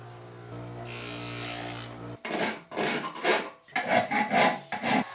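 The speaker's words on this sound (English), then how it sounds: "rounding over the sharp edges and grinding away a lot of the rivets" Repeated rasping strokes as a file rounds over the sharp edges and rivets of a traditional Chinese knife saw, loud, close and rhythmic in bursts after a steady background hum, with no talking.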